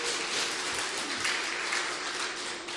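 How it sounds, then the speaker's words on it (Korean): A church congregation at a Sunday afternoon worship service gives a burst of dense, even applause, a continuous wash of clapping that holds steady for a few seconds with no talking. "다시 한번 우리 하나님께 영광의 박수 올려드리겠습니다."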